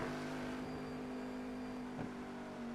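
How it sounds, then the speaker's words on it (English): In the iRacing game, a Cadillac CTS-V race car at Watkins Glen downshifts and brakes, a steady engine drone with a brief blip as the gear drops. Heard alone, with no talk. "You can just hear that downshift"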